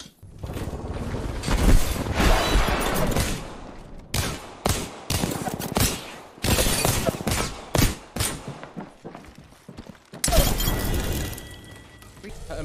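Gunshots from the Apex Legends video game ring out in loud, sharp bursts separated by short gaps, mixed with mechanical clicks and shattering, while a voice talks in between.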